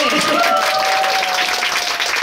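Steady applause from a concert audience fills the whole stretch, loud and continuous, with a faint high tone running underneath.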